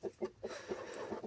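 Several hens in a home coop clucking softly in a quick, uneven run of short calls, close by and fairly quiet.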